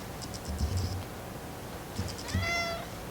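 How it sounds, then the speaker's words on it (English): House cat meowing twice, two short separate calls about a second and a half apart, quiet and close in an indoor room. "This is my fat cat,"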